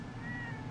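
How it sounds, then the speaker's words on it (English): A cat gives a single drawn-out meow, close and fairly quiet, as household cats come out to greet people arriving, over low background rumble and no talk. "Look, the kitties came out to greet us."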